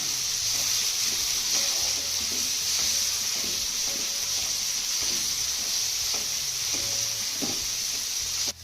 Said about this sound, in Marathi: यामध्ये आपण एक बारीक चिरलेला टोमॅटो घालूया आपल्याला चांगला मौसूत परतून घ्यायचा आहे